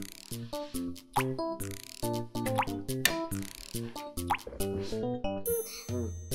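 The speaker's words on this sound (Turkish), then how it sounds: "Biraz buralara motor yağı damlatalım." A cartoon-style effect of motor oil dripping onto a squeaky excavator in a children's repair game, a quick run of bright plopping, dripping tones in bouncy rhythm, closely spaced and fairly loud.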